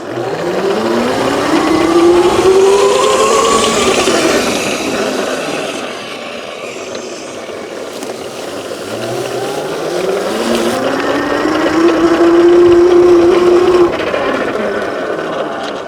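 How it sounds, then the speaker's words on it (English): A Qwayq EM40 48-volt electric dirt bike accelerates off-road, its motor whine rising in pitch twice in long sweeping climbs, loud and close with wind noise and no speech. "Let's do an acceleration test."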